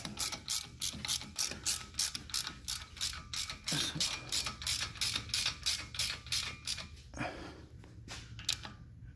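A hand ratchet tightens a bolt on a Volvo CX60 3.2L front driver-side CV axle, giving a rapid run of crisp, regular clicks in quick strokes with a few short pauses, close and fairly quiet, and no voices are heard.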